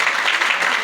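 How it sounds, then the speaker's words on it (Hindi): An audience applauds at a Hindi comic poetry gathering, a brief burst of dense, loud, even clapping filling the moment without pause. "ये मेरी हिम्मत के लिए एक बार तालियां दे दीजिए।"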